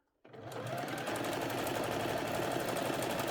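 Sewing machine stitching a zigzag seam joining a bodice and skirt, starting abruptly after a brief silence and then running as a fast, steady mechanical whir close by.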